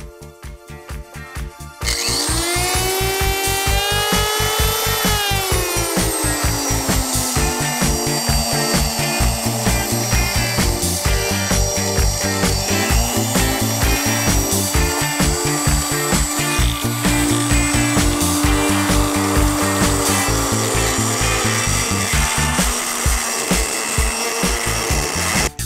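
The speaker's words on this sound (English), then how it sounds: "I'm gonna go ahead and grind this guy out" Grinding out the ports of a Chevy small block Vortec 062 cylinder head: a high-pitched rotary grinder runs continuously, whining and shifting pitch as it bites into the metal, loud and close throughout.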